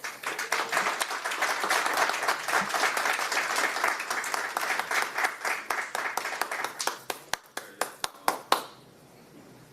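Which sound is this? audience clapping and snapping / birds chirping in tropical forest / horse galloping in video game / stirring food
audience clapping and snapping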